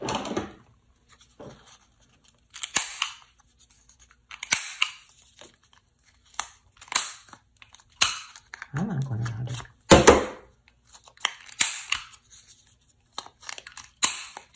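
Scissors cut corners off paper in short, separate snips and crinkles spaced every second or so, faint and close, with quiet handling between cuts.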